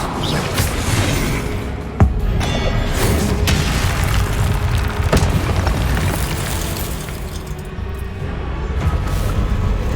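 Repeated Confringo spell blasts in the Hogwarts Legacy video game burst out as sharp booming hits, with a prominent crack near two seconds, over a dense, loud, continuous rumble of combat noise.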